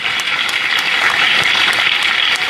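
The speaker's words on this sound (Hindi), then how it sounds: "एक बार जोरदार ताली बजाओ सबके लिए।" Audience of students and seniors at a gurukul gathering in Haridwar clapping loudly and steadily, a dense continuous burst of applause with no talk.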